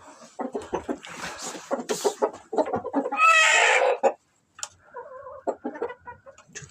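Farmyard chickens cluck and squawk in short bursts, one hen letting out a loud drawn-out call, with brief sharp clucks after a pause, near and clear.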